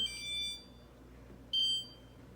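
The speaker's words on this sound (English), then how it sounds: "So we're gonna turn off the timer." A kitchen timer set while dinner roll dough rises sounds two short bursts of high electronic beeping, separated by a pause, fairly clear in a quiet room.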